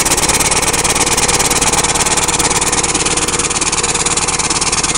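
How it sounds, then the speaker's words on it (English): Small engine on a compressed air push mower running at full throttle, a loud, steady, buzzing drone with a fast, even pulse, heard up close and alone. "That's what it sounds like at full throttle."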